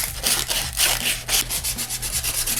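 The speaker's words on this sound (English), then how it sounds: "So get your sandpaper out and just sand this down." Sandpaper rubs a wooden wand in quick, rhythmic back-and-forth strokes, a loud close-up scratchy rasp repeating steadily with no talking.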